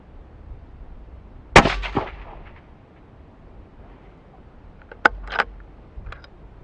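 A Mauser M18 rifle fires Hornady 147 ELD-M rounds at a range: one sharp report, then a quiet pause, then a couple more shots in quick succession, each ringing out against a faint background.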